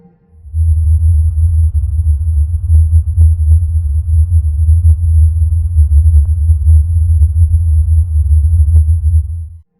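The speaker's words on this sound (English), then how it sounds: "the Taos hum remains one of the most famous unexplained sounds in the world" A steady, loud low-pitched hum, presented as the Taos hum of New Mexico, throbs continuously for about nine seconds with faint ticking pulses above it and no voices.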